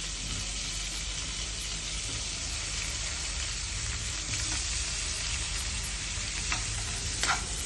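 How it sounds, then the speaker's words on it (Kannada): Paneer frying in butter in a pan, a continuous dense sizzle and crackle close up, with a few light stirring clicks near the end. "ಚೆನ್ನಾಗಿ ಹುರ್ಕೋಬೇಕು."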